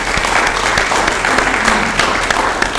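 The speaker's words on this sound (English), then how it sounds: "I think we ought to all give a big hand, an applause to Fred for all he's done" Sustained audience applause fills a residents council meeting in honor of Fred, a retiring editor: dense, steady clapping from a roomful of people, continuous throughout without a break.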